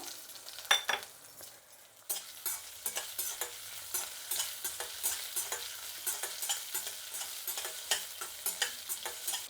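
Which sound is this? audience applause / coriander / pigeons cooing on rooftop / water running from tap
coriander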